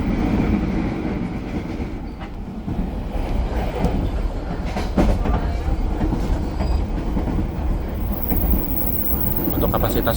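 Kahuripan economy-class air-conditioned passenger train rolling along rails, a steady continuous rumble with rhythmic wheel clatter and faint squeal, heard from on board, with some speech-like noise mixed in.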